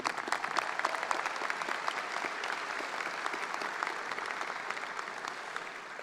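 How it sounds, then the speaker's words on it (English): A crowd applauds steadily in a school gym during a 2019 high school graduation ceremony, producing a dense, even wash of clapping that holds at a moderate level throughout. "Round of applause one more time."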